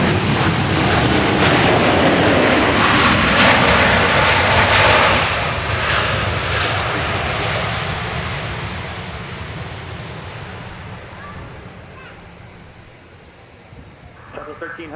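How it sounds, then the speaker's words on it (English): A Boeing 737-700 jet airliner roars loudly and close at Dallas Love Field, a broad engine rush that slowly fades over several seconds as the plane moves away. "That particular plane, Flight 1300, coming in from St. Louis, Missouri. 737-700."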